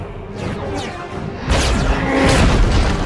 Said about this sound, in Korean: 이 장면 속 폭발이 레드헐크의 점포로 인해 발생하는 것일 가능성이 높을 듯하고